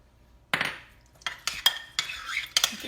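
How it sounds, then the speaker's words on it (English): Mayonnaise, garlic powder and dill pickle juice being stirred together for dill pickle chicken salad, a handful of close utensil clinks and scrapes against a bowl, spaced irregularly, no talking. "Get that all mixed up."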